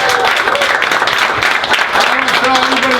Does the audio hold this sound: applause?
yes